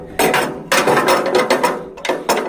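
The hand crank engages an Allis Chalmers B, C or CA vintage tractor: loud, close, rhythmic ratcheting bursts of metal clatter, several strokes in quick succession with short gaps between them.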